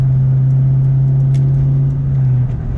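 A car with a new transmission crossmember mount drives and shifts into second gear, its engine producing a steady, loud low hum close by that dips slightly near the end.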